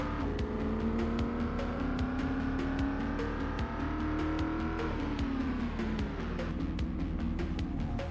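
A sports car driving fast in Project Zomboid, its engine revving and shifting pitch continuously up and down, loud and close, with a steady rapid ticking running throughout.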